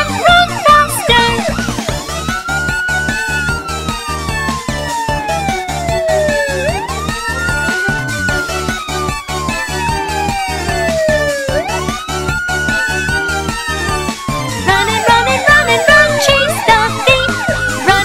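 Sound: police car siren in a children's cartoon

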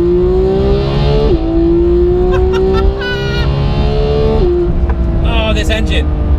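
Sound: sports car engine accelerating on open road

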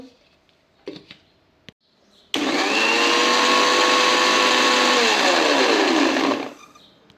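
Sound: mixer grinder blending muskmelon juice with milk and sugar

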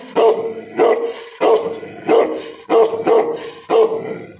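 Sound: dog barking

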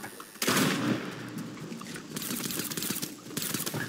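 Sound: gunfire in the video game Fortnite

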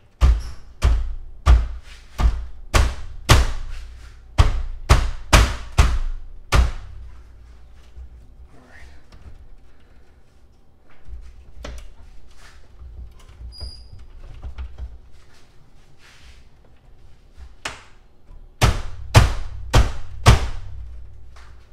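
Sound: banging Mercedes-Benz GLK front grill loose towards engine

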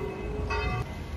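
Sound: church bell ringing in Dubrovnik

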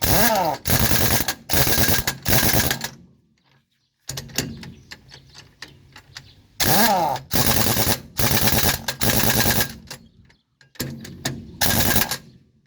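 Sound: pneumatic impact wrench removing truck tire wheel nuts

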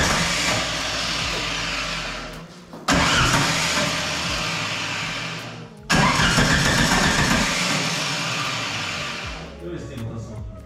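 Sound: VW Gol turbo engine cranking on the starter motor

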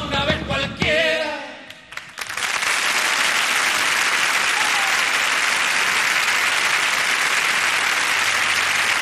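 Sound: audience applause after a folk music performance

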